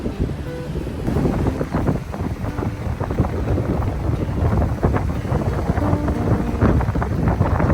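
Steady, rough wind buffeting the microphone on the north end of a Hawaiian island, a continuous loud rumble with gusty surges and a faint wash of water underneath, no voices.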